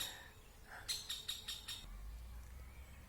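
A bird outdoors gives a quick run of five bright chirps in a row, faint against a quiet background hum, followed by a low rumble.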